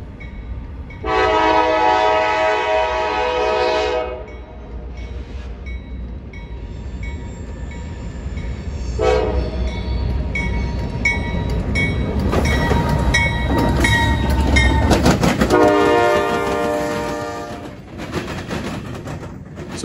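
CSX and Norfolk Southern freight trains cross the rail diamonds in Marion, Ohio, on a cold evening. Loud horn blasts sound over the steady rumble of rolling cars, and wheels bang across the crossing with rhythmic clatter, close by.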